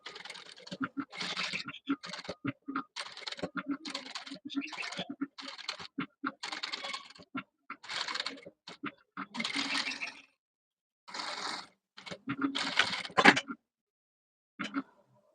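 Sewing machine stitching a blouse back neck along a drawn line, running in short bursts of rapid mechanical clatter separated by brief pauses, close and clear with no voices.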